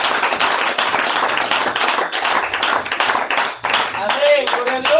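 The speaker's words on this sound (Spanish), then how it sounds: "Dale un aplauso al Señor, por favor." A church congregation gives sustained applause to the Lord during a Spanish-language sermon, a dense, steady wash of many hands clapping close by for the whole stretch, with voices mixed in.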